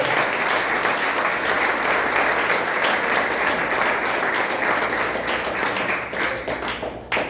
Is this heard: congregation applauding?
yes